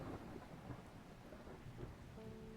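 A steady thunderstorm in the game Strange Horticulture: continuous rain with low rumbling thunder rolling throughout, moderately loud and close, with no one talking.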